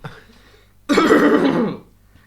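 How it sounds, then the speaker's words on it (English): One loud, harsh cough right into the microphone, close and brief, with quiet before and after. "Coughing into a microphone"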